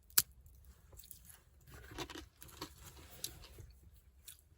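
Quiet, crisp crunching of thin salted pretzel crisps in short bursts, one sharp snap at the start, with no talking.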